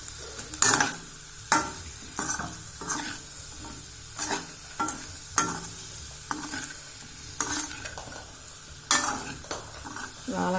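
Raw plantain stir-fried in oil, with repeated sharp spatula scrapes and clanks against the pan over a low sizzle, close and rhythmic, no voices.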